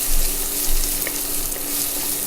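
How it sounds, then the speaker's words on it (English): Steady, loud sizzling of thawed frozen green peas sautéing in a spice mixture in a hot pan, with a few faint stirring knocks and no talk. "Add it to the mixture, the spice mixture, and saute them just to brown the peas slightly"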